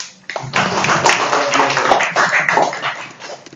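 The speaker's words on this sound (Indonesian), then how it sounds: "Tepuk tangan." An audience at a corporate onshore engineering goal-setting event breaks into steady, loud applause that swells quickly and keeps going throughout, dense clapping filling the room.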